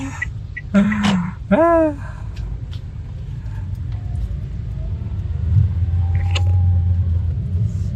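Low, steady rumble of car engines in a stalled Ramadan rush-hour traffic jam, continuous throughout with a brief chirping sound near the start and a louder drone building toward the end.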